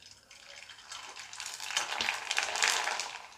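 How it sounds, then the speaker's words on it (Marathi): Papad dropped into hot oil fries with a soft, crackling sizzle that swells over a few seconds, bubbling and popping close by with no talking. "आता आपण यात पापड घालूया."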